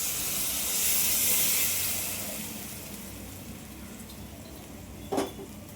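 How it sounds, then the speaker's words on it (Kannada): Water poured into a hot tempering of chilli powder and spices for North Karnataka-style jowar roti hisses and steams loudly at first, then fades to a softer simmering hiss with a brief clink near the end. "ನೀರು ಹಾಕ್ತೀನಿ ನೋಡಿ."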